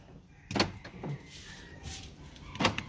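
A car's central locking fires on all doors at once, giving sharp mechanical clunks, one near the start and another near the end, over faint background noise.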